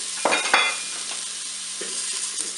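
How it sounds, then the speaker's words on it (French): Asparagus browns in a Cookeo multicooker, a close, bright sizzle with two sharp spoon scrapes early on and softer stirring strokes later over the steady frying hiss. "je fais revenir mes asperges en mode doré pendant 1 minute"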